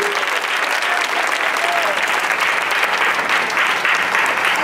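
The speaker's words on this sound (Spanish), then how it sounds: "Dale aplauso a Jesucristo, bendito sea Dios." A church congregation claps loudly and continuously during an evening Spanish-language sermon, a dense, even roar of applause with crowd voices mixed underneath.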